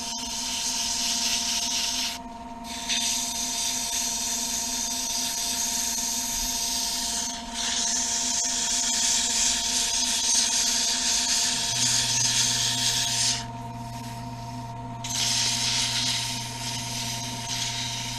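Wooden door stop being sanded on a running lathe: a steady whining motor hum with a continuous rushing abrasive hiss that briefly drops out several times as the paper lifts off, and a lower tone joining near the end.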